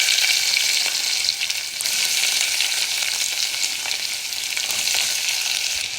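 Loud, continuous sizzling of ivy gourd frying in oil, a dense hiss that holds steady throughout, close up and without speech.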